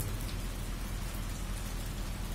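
Steady rain falls continuously, an even hiss of drops on surfaces with no other sounds.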